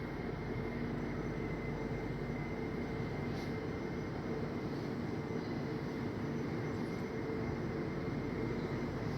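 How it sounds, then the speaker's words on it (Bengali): A Kolkata metro train rumbles into the station with a faint, steady low roar and hum throughout, distant and unchanging rather than close or sharp. "ট্রেনও এসে গেছে,"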